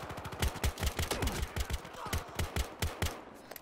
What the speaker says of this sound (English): My gun just has a little bit too much recoil to spam the trigger